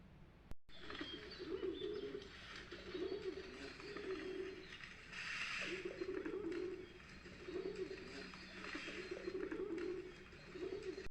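Pigeons living under house roofs in winter coo in repeated, rhythmic low phrases, steady and fairly close, with faint chirps from other birds behind.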